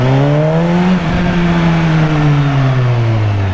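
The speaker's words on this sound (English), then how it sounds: "Danas se malo vozamo, kao i svaki put kad sedem na motor." A BMW S1000RR motorcycle engine drones loudly on a ride, its pitch dipping briefly and then holding steady under constant wind rush close to the rider.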